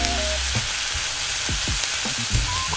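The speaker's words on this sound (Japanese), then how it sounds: "ぐっと煮詰めて酸味を飛ばし、白ワインの味を凝縮させてあげましょう。" White wine bubbling and sizzling steadily as it reduces in a hot pan after browning chicken and onions, with a few clinks and scrapes of a utensil.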